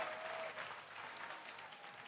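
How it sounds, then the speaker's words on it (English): Cloud9 esports fans clapping and cheering at a live match, a steady wash of crowd applause heard at a distance. "You got so many C9 fans cheering, celebrating this moment"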